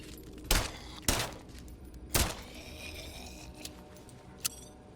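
Three loud, sharp gunshots from the standard pistol in System Shock, spaced about half a second apart, followed by a couple of softer impacts over low game ambience.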